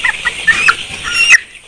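Sonali chickens on a poultry farm cluck in a close, busy chorus of short overlapping calls, with several sharper squawks rising above the flock before the sound cuts off abruptly near the end.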